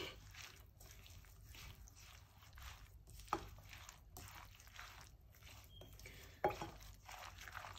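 Vegetable sandwich filling being stirred together in a bowl, soft wet squishing and scraping repeating steadily at low volume, with a couple of sharper clicks of the spoon against the bowl.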